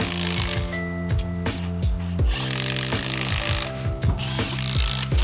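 A power tool, likely an impact wrench, working the CV axle bolts on a GMC Yukon XL during a rear differential replacement, sounding as a close, loud run of rapid ratcheting bursts repeating steadily over the whole stretch.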